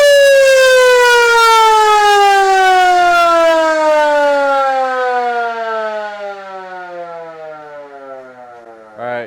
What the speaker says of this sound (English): go ahead and hit the siren a little bit